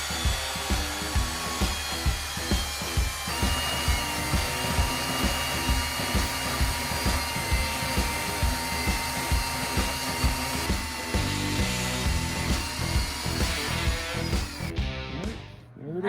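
A bandsaw cuts through metal with a sustained close whine and a regular rhythmic pulsing for the full length, the tone dropping away as the cut finishes at the end.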